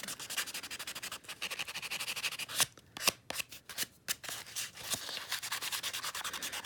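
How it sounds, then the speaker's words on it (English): A 400-grit buffer rubs over an acrylic dip powder nail in quick, rhythmic back-and-forth strokes, a close, dry scratchy swishing with brief pauses midway and no talk. "Buff it out nice and smooth. with that 400 grit."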